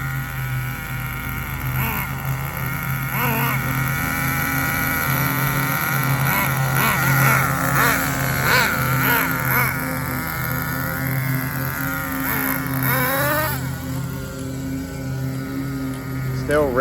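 A nitro engine in an HPI RS4 RC car idles with a high, buzzing whine, rising into several revs midway and near the end, while a person talks over it.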